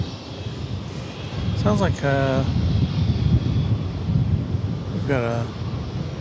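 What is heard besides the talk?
airplane at DFW airport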